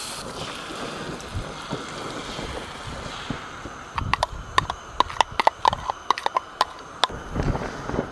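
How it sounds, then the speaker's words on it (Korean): Strong wind gusts buffet a campsite during heavy rain, a steady roaring rush broken in the second half by loud irregular flaps and clacks, likely tarp or gear being whipped about close to the microphone. "와, 바람이 너무 심한데?"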